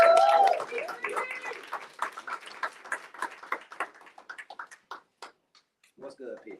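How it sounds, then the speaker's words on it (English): Audience at a speaker series event clapping to welcome a speaker, a short burst of cheering and claps that thins to scattered individual claps, with voices over the start and talk resuming at the end. "Start clapping. Let's give it up for Chuck."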